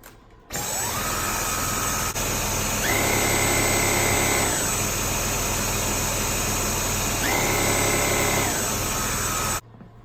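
A vacuum cleaner motor whines steadily, and its brush spins up into a higher-pitched turbo mode twice before settling back, loud and close, stopping abruptly near the end, with no voices.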